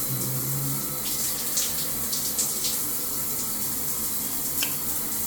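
Hotel shower water runs steadily and close, a continuous broadband hiss with small splashy fluctuations, no voices.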